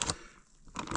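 A plastic zipper bag holding a raw whole chicken for smoking is pressed shut, giving two short crinkly rustling bursts with a quiet gap between them.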